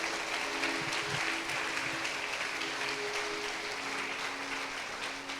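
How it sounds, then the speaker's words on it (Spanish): A church congregation applauds together during a sermon, a sustained, even wash of clapping from many hands in a reverberant hall, with a faint low hum underneath. "¿Cuántos dan un aplauso al Rey en esta hora?"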